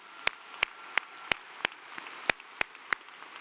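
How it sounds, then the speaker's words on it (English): Sparse, evenly spaced claps ring out at a university commencement ceremony, about ten sharp distinct hits over a quiet room. "let's give her just another round of applause and congratulations"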